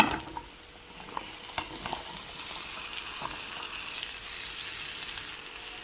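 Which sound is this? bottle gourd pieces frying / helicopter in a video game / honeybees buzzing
bottle gourd pieces frying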